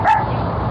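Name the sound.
guard dog barking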